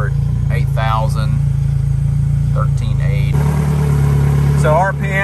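A Yamaha F115 outboard engine runs at a steady low idle around 1,000 RPM, a constant close drone whose tone shifts slightly partway through, with people talking over it.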